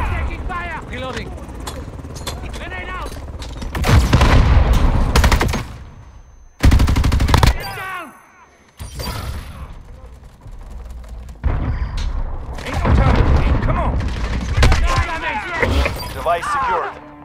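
Bursts of automatic gunfire and explosions from Call of Duty: Modern Warfare, loud and close in a 6v6 Cyber Attack match at Hackney Yard, with short gaps between volleys and game voice lines over the fighting.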